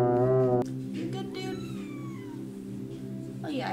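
A 15-week-old kitten meows with drawn-out, rising and falling cries close by, over a steady low hum, after a brief burst of voice at the start.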